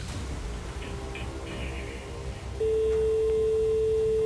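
After a few seconds of faint room noise, a single steady telephone ringing tone starts and holds evenly to the end, during a live radio call-in prize draw.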